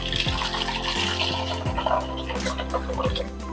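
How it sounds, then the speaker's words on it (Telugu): Water pours steadily into a container of oats, a continuous splashing rush with a faint trickle, close by and fairly loud throughout. "ఓట్స్లో నీళ్ళు పోస్తున్నాను"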